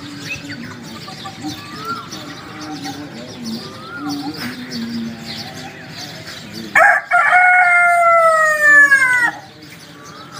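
Birds chirp and cluck nearby at dawn, then a rooster lets out one loud, long crow close at hand that fades away.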